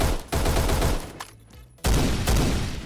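Submachine gun fire from Phantom Forces comes in two rapid bursts, dense close rattling shots separated by a brief quieter gap.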